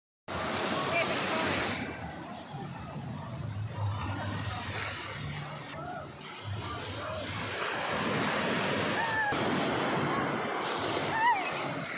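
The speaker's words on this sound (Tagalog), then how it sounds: "Lakas ng alon." Strong ocean surf at a beach resort in Morong, Bataan, with waves crashing and washing continuously under wind noise, while people talk and call out nearby.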